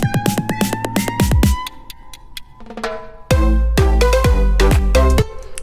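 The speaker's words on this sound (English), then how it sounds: "I added the same transition I had in my last house song." Electronic house track transition: bright synth stabs and plucked tones with deep bass hits, thinning into a sparse gap before the full beat slams back in loud, with no talk.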